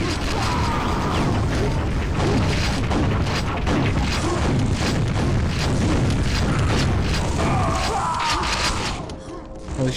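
Rocket launcher fire in a Quake Remastered deathmatch comes as loud, dense booms and thuds amid clattering mechanical weapon and movement noise, continuous and close before cutting off abruptly near the end.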